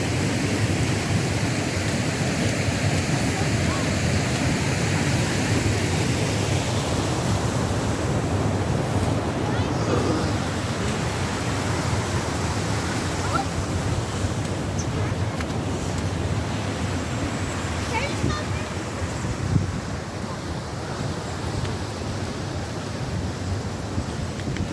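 Water pours over a weir on the River Irk, a dense, steady roar of rushing flow that stays loud and unbroken throughout, mixed with some wind buffeting on the microphone.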